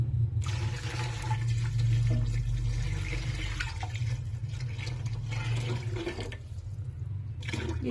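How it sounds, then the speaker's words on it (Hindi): Water pours steadily into a pot holding beef, ginger-garlic paste, salt and garam masala for a stock, a continuous splashing and gurgling fill lasting several seconds with no talk. "और पानी डालेंगे।"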